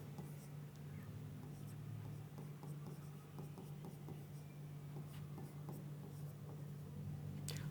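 Handwriting during an organic chemistry lesson: faint, dry scratching strokes in short irregular bursts over a steady low hum in a quiet room.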